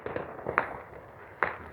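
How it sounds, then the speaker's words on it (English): Fourth of July fireworks crack in two sharp, distant pops about a second apart, set against a steady outdoor rumble and faint background noise. "Let's go on the next firework."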